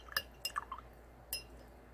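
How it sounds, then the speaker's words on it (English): A watercolor paintbrush being rinsed in a glass water jar, giving a few quick, faint clinks and small splashes in a quiet room. "And I'm going to clean my brush."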